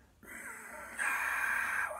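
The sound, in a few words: ujjayi breath, sighing whistling breath through narrowed throat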